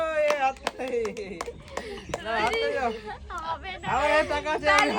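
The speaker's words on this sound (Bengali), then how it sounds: "হাততালি দাও রোহিণীর হাততালি দাও" Audience at a fruit-matching challenge at a fair clapping for Rohini, short bursts of hand claps mixed with loud chatter and a voice calling out over the crowd.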